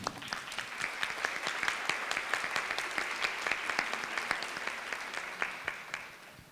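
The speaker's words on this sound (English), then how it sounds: "Give yourselves a hand of applause." Audience applause at a conference, a steady patter of many hands clapping at moderate distance, fairly faint and even, fading at the end with no talking.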